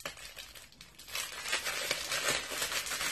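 Crinkly plastic packaging being handled and pulled at while opening a sequined pencil case, a busy rustling crackle close by that grows louder and more continuous after a brief lull.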